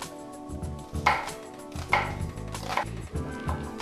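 A knife chops onion into small squares on a board for a Dominican ripe plantain casserole, with a few clustered bursts of quick cutting strokes close up and no talk.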